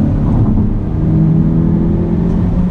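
A 2019 Honda Civic Si engine pulls at around 4,000 RPM, a loud steady rumbling drone heard from inside the cabin, with no talk.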